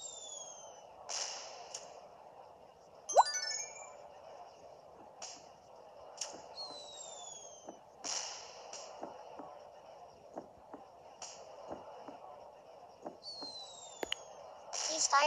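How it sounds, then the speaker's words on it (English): Fireworks crackle and pop at a wedding celebration, with repeated sharp bursts and whistling streaks spread over time, mostly faint and distant against a quiet outdoor background. "These fireworks are amazing"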